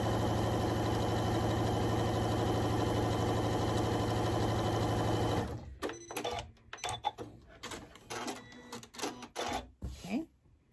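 Sewing machine stitching a surgical face mask, running in a steady loud continuous whir for several seconds before stopping, followed by scattered handling clicks and rustles of fabric.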